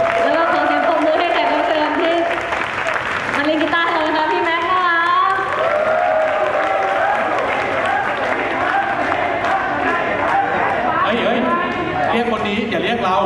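Sustained applause from a large audience at an idol concert fills the room, steady and loud, with cheering and crowd chatter mixed in and voices talking over it.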